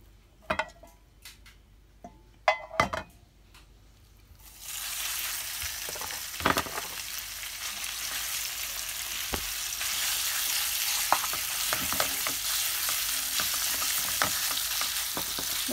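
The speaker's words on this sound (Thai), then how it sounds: "เอาหมูลงผัดค่ะ" Pork stir-frying in a little sesame oil over a gas flame for Japanese buta kimchi. A few spatula clicks come first, then a loud, steady sizzle swells up and continues, broken by occasional scraping taps.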